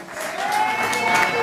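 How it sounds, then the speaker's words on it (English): Steady clapping from a crowd, sustained and fairly loud, with a bright whistle-like tone running through it. "Big round of applause for Dairy Copeland, boys."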